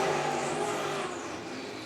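Race cars on Hoosier tires powering off turn four at Tri-City Motor Speedway during heat races, a loud sustained engine roar with droning pitch, fading slightly as they pass.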